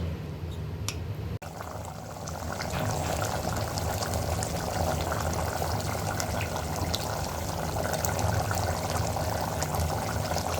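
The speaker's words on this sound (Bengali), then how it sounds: "কষানোর জন্য পানি দিয়ে দিচ্ছি।" Water poured into a pan of chicken curry with potatoes being braised, a steady continuous pouring and bubbling wash that runs nearly the whole time at even loudness, close up, with no talking.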